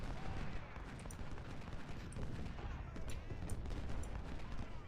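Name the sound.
soldiers firing guns in video game Ultimate General: Civil War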